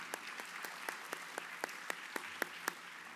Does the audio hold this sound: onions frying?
no